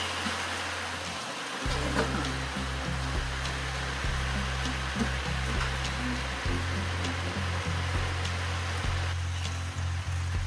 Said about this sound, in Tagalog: nalakasan na tayo ng ulan